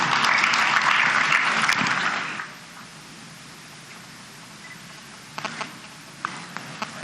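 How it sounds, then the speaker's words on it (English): Applause from an audience at a customs conference opening ceremony, a dense burst of clapping that fades out after about two seconds, followed by near silence with a few faint clicks. "Please, a round of applause for the COA."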